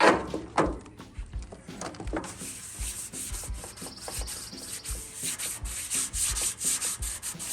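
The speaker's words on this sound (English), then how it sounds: "I'm just water sanding this." Wet sanding of a vintage metal chair by hand, a steady scraping rub in repeated back-and-forth strokes with occasional light knocks, close and moderately loud with no talking.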